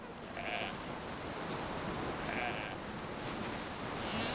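Sheep bleat in short calls, one after another, from cliffs above a noisy seabird colony with penguins and albatross chicks, set against a constant wash of wind and surf.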